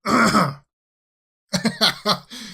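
A throat is cleared with a rough, gravelly rasp, followed after a short silence by a few more gruff throat-clearing bursts.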